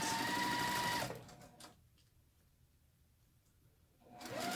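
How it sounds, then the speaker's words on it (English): A sewing machine runs a quarter-inch seam on a nine-patch quilt block, a close, even whir at the start that stops after a second and resumes briefly at the end. "I'm sewing a 1/4 inch seam there"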